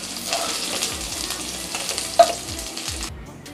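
Ivy gourd (kundru) frying in oil in a kadhai over a medium flame, a continuous close sizzle and crackle with light stirring and one sharp clink near the end before it cuts off.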